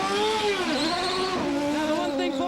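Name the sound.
IndyCar race car engine revving leaving pits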